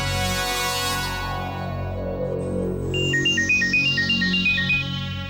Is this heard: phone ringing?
yes